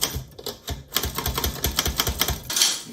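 A manual typewriter clacks in a fast, uneven run of sharp key strikes, loud and close, ending with a brighter metallic clatter near the end, and no voices.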